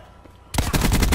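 Rapid automatic gunfire in the shooter game Black Ops 4 starts abruptly after a quiet lead-in and then pounds on as a loud, close burst of evenly spaced shots.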